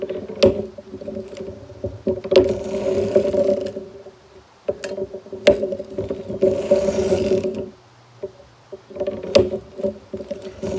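Sock knitting machine working heel and toe stitches, a repeating mechanical clatter and ratcheting whir in rhythmic bursts with short pauses between passes, close and fairly loud.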